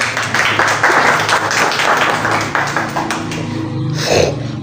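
An audience at a memorial ceremony claps steadily, a dense wash of hand claps from a crowd that thins and fades near the end.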